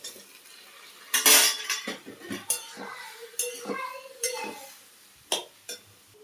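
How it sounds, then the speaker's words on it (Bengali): Metal spoon scraping and clinking in a pan as soya chunks are stirred into potatoes with turmeric, cumin, ginger and chilli paste, a series of irregular close knocks and scrapes with brief pauses. "এখন সয়াবিনগুলো দিয়ে কষাবো।"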